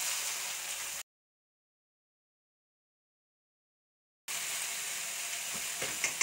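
Chicken pieces for teriyaki sizzle steadily in a frying pan, a continuous close hiss broken by about three seconds of total silence midway before the frying resumes with a few small pops.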